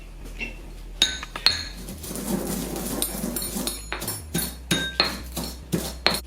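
Cooled roasted masala spices are crushed by hand for dahi bhalle: a run of close, irregular hard knocks and sharp clinks, some in quick bursts, with no talking.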